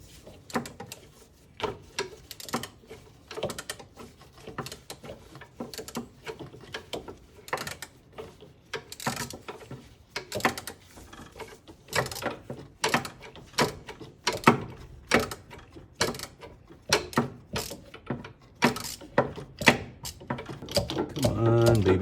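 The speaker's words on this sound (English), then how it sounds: "Get the ratchet going the right direction would be nice." A hand ratchet clicks in repeated bursts while bolts and nuts are loosened during work on a T. rex, with the sharp pawl clicks coming close and fairly loud and a low voice talking now and then.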